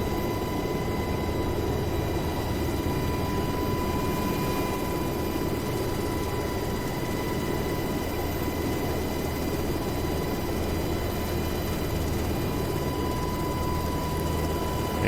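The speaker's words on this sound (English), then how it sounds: "with the H-60 landing at Batumi" An H-60 helicopter lands at Batumi, heard as a continuous, even wash of engine and rotor noise with a steady high whine, constant in level throughout with no voices.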